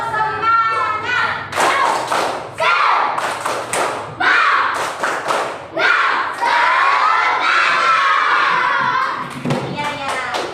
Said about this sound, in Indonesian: Terus kita mulai ya tepuk semangatnya.